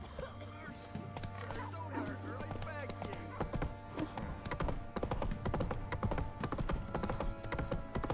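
Roach the horse clip-clops steadily over the ground in The Witcher 3, its hoofbeats mixed with game ambience and a low drone. A voice speaks over the sound.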